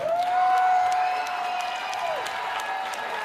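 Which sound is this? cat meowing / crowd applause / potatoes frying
crowd applause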